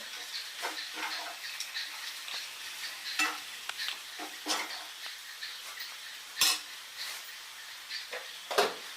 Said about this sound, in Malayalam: എന്നിട്ട് നമുക്കൊന്ന് മിക്സ് ചെയ്ത് കൊടുക്കാം നന്നായിട്ട്